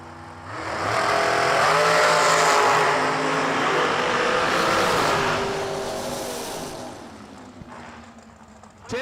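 An American chassis dragster roars down a drag strip at a New Year nationals bracket race, a loud swelling engine howl that holds for several seconds before fading into the distance.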